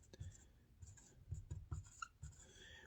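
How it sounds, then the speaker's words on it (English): Pen or pencil scratching across paper by hand in a series of short, close strokes with brief pauses, in a quiet room. "I'll just write it down."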